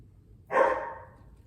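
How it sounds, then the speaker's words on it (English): A single dog bark sounds indoors, brief and moderately distant, fading quickly into a quiet room. "pardon my dog."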